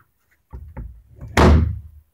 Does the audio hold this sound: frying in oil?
no